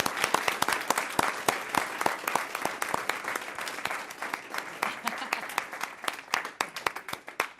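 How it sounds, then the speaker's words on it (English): A room full of people at a board meeting claps steadily, a dense, even applause that holds for several seconds before thinning slightly. "give them a round of applause and appreciation for all of their hard work"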